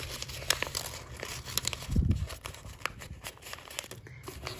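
Paper being folded into an origami box gives soft crinkles and rustles in short bursts, close and quiet, with a fuller crumple around the middle.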